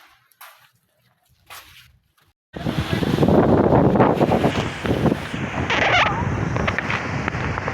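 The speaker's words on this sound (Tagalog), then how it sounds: "Ang hangin dito." Quiet at first with a few faint sounds, then strong wind suddenly buffets the microphone in a loud, continuous roar.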